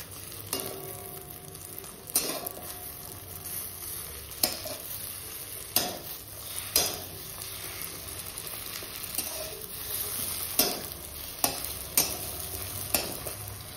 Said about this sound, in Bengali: ডিম ভাজা বসিয়ে দিয়েছি।